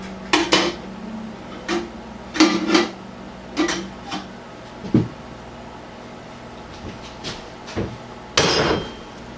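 Kitchen utensils and dishes set into a sink for washing while tamales are made, a series of sharp clanks and clatters spaced irregularly, close and fairly loud, ending with a brief scraping rattle.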